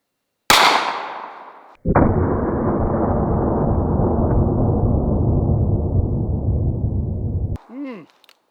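A .500 Magnum revolver fires into 6-pound cans of tomato paste: one sharp, loud close shot, then a long sustained roar of noise, ending in a brief exclamation.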